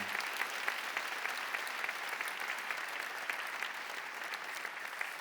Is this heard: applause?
yes